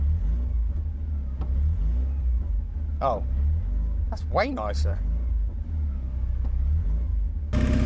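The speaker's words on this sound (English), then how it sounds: "Let's give it a bit of a rev." A Porsche 944 engine, recently brought back from neglect, runs smoothly at close range and is given a brief rev, with someone talking over the steady rumble.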